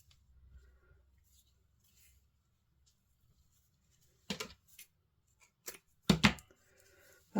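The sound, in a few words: scissors cutting a stamped paper bookmark in half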